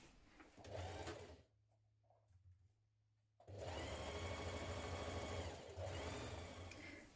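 A sewing machine stitches a dress seam in two close, whirring runs separated by a quiet pause of about two seconds, the second run longer and steadier than the first.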